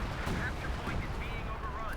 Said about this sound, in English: Artillery strike called in here using the Panther 4. A coordinate barrage there from the division artillery.